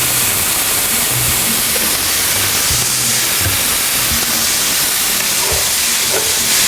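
Vegetables sautéing in a pan with a little added oil, a steady broad hiss of frying, fairly loud and continuous, with a low rumble beneath and no talking.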